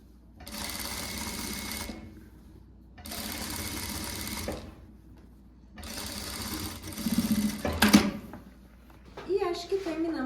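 Sewing machine stitching a blouse base, running in three steady bursts of about two seconds each with short pauses between, followed by some handling clatter and brief voices near the end.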